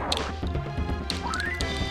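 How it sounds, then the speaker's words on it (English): Cannonballs from ornate turtle cannons in the Skyblazer video game shattering and crumbling on the ground, a few sharp crunching smashes over game music, brief and fairly quiet. "They just sort of shatter and crumble on the ground."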